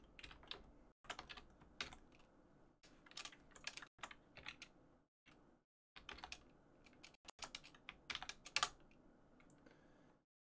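Rapid bursts of clicking keystrokes on a computer keyboard while playing a text adventure game of The Hobbit, close and crisp, with brief pauses between runs of typing.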